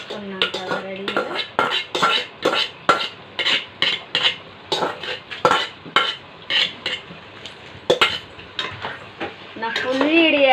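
Chicken going into a pot of softened onions and spices, followed by rhythmic metal spoon scrapes and clanks against the pot as it is stirred, close and repeated, with a faint sizzle and a little background voice.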